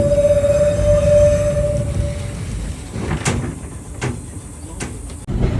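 An old-style train ride through a Japanese garden, with a steady low rumble and rolling clatter, a fading tonal whine early on, then several sharp clanks and knocks, close and fairly loud.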